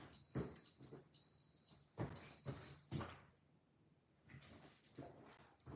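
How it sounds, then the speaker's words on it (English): An ADT home alarm system goes off with a shrill, high electronic tone in repeated bursts of roughly a second, separated by short gaps, followed by quieter clattering and household movement. "we're gonna have to get a new alarm system because ADT just sucks. That thing likes to go off for no reason at all now."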